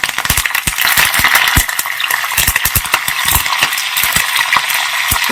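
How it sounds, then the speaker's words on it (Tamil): Crushed ginger and curry leaves hit hot oil in a pan while cooking venn pongal, crackling and spitting loudly in dense, irregular pops with a steady sizzling hiss underneath. "இதை போட போகிறேன். அதுக்கடுத்து கருவேப்பிலை போட போகிறேன்."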